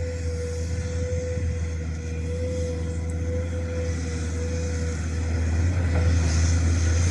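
A 21-ton Komatsu PC210MO excavator runs steadily while clearing and spreading soil and rock, its low engine drone loud, close and continuous with no talk.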